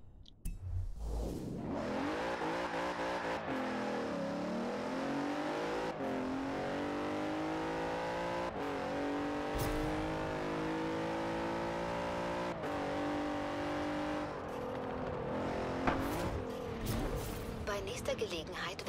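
A car engine drones and revs through a night race in Forza Horizon 4, rising and falling with gear changes, and someone talks over it in places.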